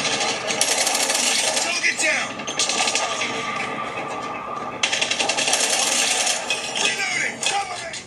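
Loud mobile shooter game audio blasting from an Asus Zenfone 8's built-in speakers at high volume, dense rapid gunfire and metallic clatter running continuously for several seconds, close and harsh, with no speech.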